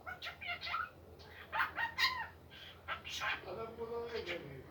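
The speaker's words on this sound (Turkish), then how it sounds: "Arkadaşlar konuşan bizim kuş konuşuyor." A pet bird chatters and squawks in rapid bursts close by, making talking-like vocalizations over a quiet background.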